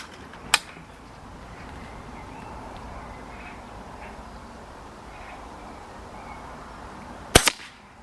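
A Webley Venom Viper air rifle fires two sharp, snappy shots several seconds apart, the first early and the second near the end, over a quiet outdoor background.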